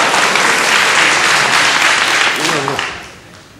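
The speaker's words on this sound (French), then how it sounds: "j'ai horreur qu'on m'applaudisse" Theatre audience applauding a comedian's show at the Théâtre Grévin in 1984, loud dense clapping that fades away near the end as a voice briefly cuts in.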